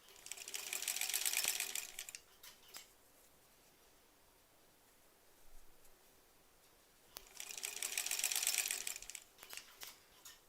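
A sewing machine stitches granny square quilt rows in two bursts of fast, even mechanical whirring, each a couple of seconds long, with quiet gaps and faint handling clicks in between.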